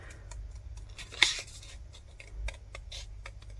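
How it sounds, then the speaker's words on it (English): Scissors cut paper in a series of quick, light snips close by, one sharper crisp snip standing out among the softer ones. "if you move the paper and not your scissors, you'll find it's not too bad."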